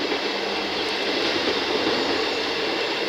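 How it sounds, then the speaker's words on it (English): A train rolls past the old 1873 Romsey Signal Box in Hampshire, a dense, steady rumble and hiss of wheels on rail, close and loud for the whole stretch with no voices. "And there's a train going by."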